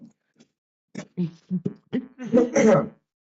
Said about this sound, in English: apparently I'm going to cough and die at the same time